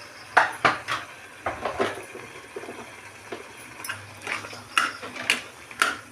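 Masala and spices are stirred in a cooking pot for a potato and chickpea curry: a spoon scrapes and clinks against the metal pot in irregular bursts, some in quick pairs, with quieter gaps.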